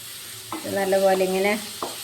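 Onion masala with turmeric powder frying in a pan gives a short burst of close sizzling, with a brief stirring scrape at each end.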